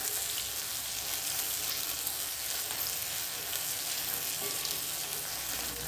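Onion frying in hot oil in a home kitchen, a steady, bright sizzle that stays even and unbroken, close and moderately loud with no talking.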